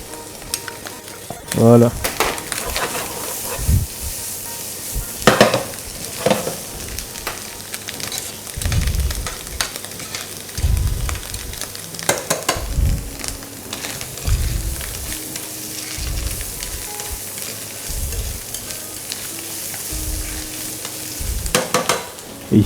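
Food fries in butter in a pan, a continuous crackling sizzle broken by scraping stirs and utensil knocks, with a brief spoken word.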